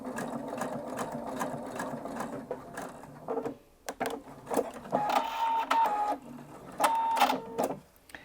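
A sewing machine stitches and tapers around a fabric corner in several short, stop-start runs, close and fairly loud, with brief pauses as the fabric is turned.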